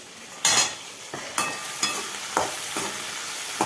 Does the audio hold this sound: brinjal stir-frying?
yes